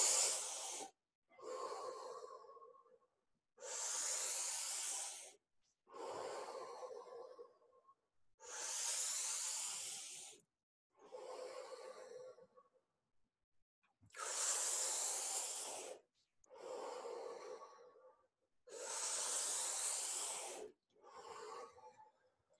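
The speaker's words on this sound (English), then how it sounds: "Whatever you feel, just keep breathing." Deep, deliberate breathing during a guided breathing exercise at a men's workshop: about nine long, close, rhythmic inhales and exhales in a steady cycle, with no voices.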